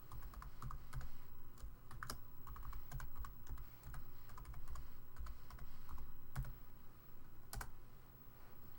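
A password is typed on a computer keyboard, with a steady run of close, crisp key clicks in irregular bursts and brief pauses between them, against a quiet room.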